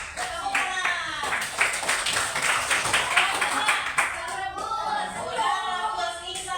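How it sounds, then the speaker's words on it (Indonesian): A group of participants in an Indonesian classroom coaching session clap hands in brisk, scattered bursts, with voices chattering and calling over the clapping throughout. "Tepuk tangan."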